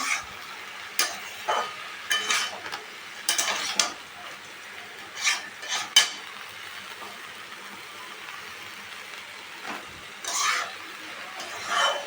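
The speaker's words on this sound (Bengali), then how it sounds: "এবার সব সবজিগুলো দিয়ে তোমার ডালিয়াটা একদম অনেকটা মানে কিছুটা সময় আমি ভালো করে ভেজে নিব" Dalia fries in a pan with vegetables and peanuts, heard as a low background sizzle broken by irregular bursts of spoon stirring and scraping, with quieter gaps between the strokes.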